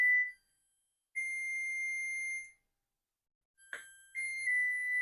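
A kitchen oven sounds long, steady electronic tones once preheated for baking a lemon yogurt loaf, two sustained beeps separated by silence, then a short click and another tone, clear and close with nobody talking.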